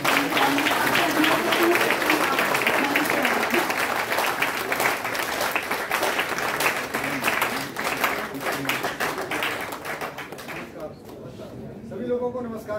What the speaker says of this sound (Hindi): तो हम उन्हें तालियों के साथ स्वागत करेंगे